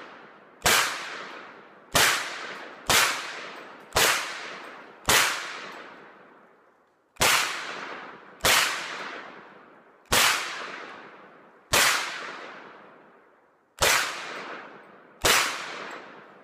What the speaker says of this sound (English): So just keep that in mind when I'm shooting these rounds here.